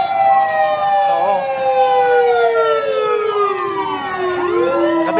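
A loud wailing fire truck siren at a fire in Parañaque sweeps up and down continuously, close by, over steady road rumble.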